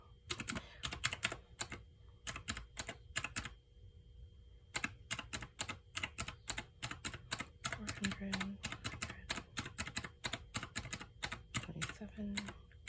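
Clicky keys pressed in quick bursts of rapid taps while numbers are added up for a budget, close and crisp with short pauses between runs.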